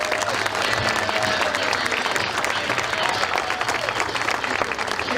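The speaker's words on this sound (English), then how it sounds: "Big round of applause, Ron" Loud, dense audience applause greets a man being introduced at a no-glove softball nationals anniversary event, steady throughout with crowd noise and a low hum underneath.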